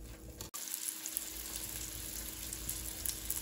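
Butter and oil heating in a pan before thin chicken breasts go in, a steady close sizzle and crackle after a brief thump at the start, no talking.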